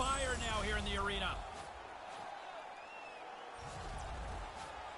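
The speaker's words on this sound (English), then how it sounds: "Yeah, this crowd on fire now here in the arena." A packed arena crowd cheers and roars in an NHL playoff hockey video game between Edmonton and Dallas. A play-by-play commentator talks briefly at first, then a steady, distant crowd swell carries on underneath.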